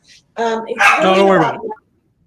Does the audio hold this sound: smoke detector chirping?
no